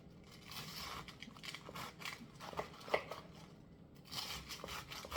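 A knife slices through cabbage into thin strips with crisp, crunchy cuts in a steady rhythm, close and fairly quiet, in a home kitchen while preparing cabbage for frying.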